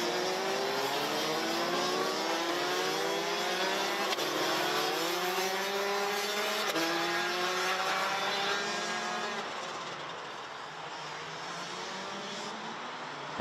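Race car at the Genk circuit accelerating hard out of a corner, its engine note climbing through several rising gear pulls, loud and close before fading slightly as it pulls away.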